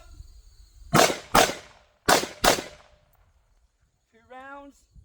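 Four sharp gunshots ring out in two quick pairs during ZERT firearms training on targets, each a loud crack with a short tail, followed by silence and a brief voice near the end.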